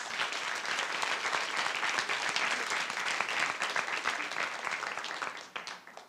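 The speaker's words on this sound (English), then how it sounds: "big round of applause." Forum audience applauding, a dense sustained round of clapping from many hands that stays steady and fades near the end.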